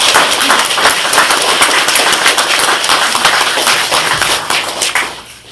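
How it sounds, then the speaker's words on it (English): Sustained applause from an audience at a 2021 scholarship presentation: dense, steady clapping at full volume for about five seconds, tapering off at the end. "let's have a rousing round of applause for all of these special people"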